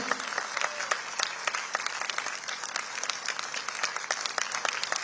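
An audience at a cultural dance event in Ahmedabad claps enthusiastically, a steady, dense patter of many hands sustained throughout at moderate distance.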